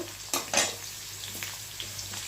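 Pieces of green papaya lightly frying in a pan for a Bengali vegetarian dish, a soft continuous sizzle with a couple of sharp utensil clinks against the pan near the start.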